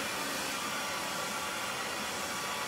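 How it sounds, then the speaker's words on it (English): A blow dryer drying hair on medium heat, a steady, close, full-bodied whoosh of blowing air that holds an even level throughout with no voices. "When you put the blow dryer on medium heat"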